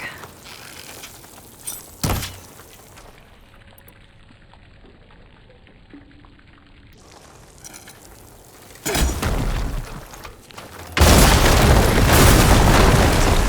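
Blaze barrels blown up with fire ammo in Horizon Forbidden West, heard as a quiet stretch with a couple of sharp knocks, then a loud explosive blast followed by a sustained roaring burst of fire and debris.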